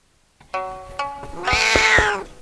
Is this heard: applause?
no